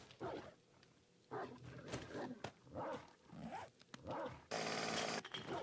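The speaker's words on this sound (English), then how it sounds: "I hear wolves." Wolves in the survival video game 7 Days to Die let out repeated rising and falling growling cries, several short calls in a row, followed by a burst of harsh noise near the end.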